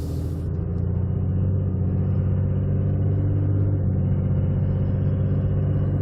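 A 6.7 Cummins diesel truck with a non-VGT turbo drives along, its engine a loud, steady low rumble heard from inside the cab with no talking.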